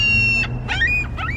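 Birds at a poutine feast in Canada: several short, chirpy calls in quick bursts over a steady low background hum, fairly close, with no talking.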